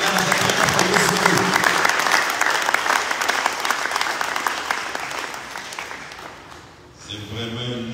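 A church congregation applauds and cheers for Jesus in a sustained burst of dense clapping that gradually fades, followed by a voice speaking at the end.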